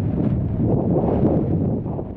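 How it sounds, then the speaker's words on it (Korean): Strong wind blows across an open outdoor spot, buffeting the microphone with a steady, loud, low roar that barely lets up for the whole stretch, with no voices. "바람이 불어도 너무 분다."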